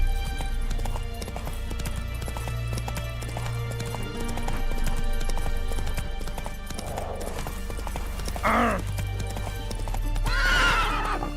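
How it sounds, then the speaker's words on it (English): Roach, the horse in The Witcher 3: Wild Hunt, clip-clops along at a steady rhythmic gait with a couple of loud neighs and whinnies late on, set against continuous in-game ambience. "Whoa there, Roach"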